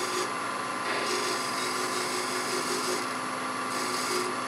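A hand tool scraping a line into a wooden acorn box, a faint, continuous rasping that rises and falls in short strokes, close and alone.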